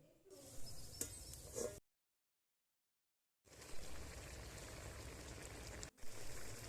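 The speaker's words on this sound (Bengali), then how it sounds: "সিদ্ধর জল দিয়ে ঢেকে দিলাম।" Boiled water poured over cooked snails (gugli) in a pan, a broad watery rush filling the clip, cut by a silent gap before the steady splashing resumes.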